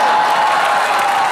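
Studio audience at a Comedy Nights with Kapil taping clapping loudly and steadily, a dense continuous wash of applause.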